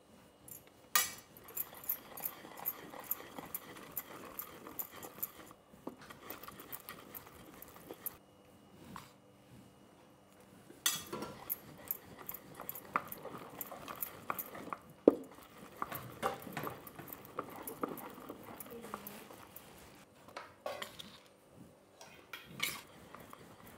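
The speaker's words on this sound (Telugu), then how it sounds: "ఇప్పుడు పిండి వేసుకుంటూ కలుపుకుందాము" Rice flour is stirred into hot sugar syrup for ariselu, a spoon scraping and clinking against the metal pot in uneven bursts, up close and without talk.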